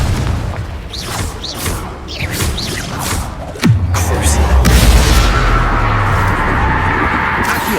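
A Confringo blasting curse explodes in Hogwarts Legacy, a single loud, deep boom followed by a rumbling, crackling tail. Lighter spell whooshes and combat effects come before it.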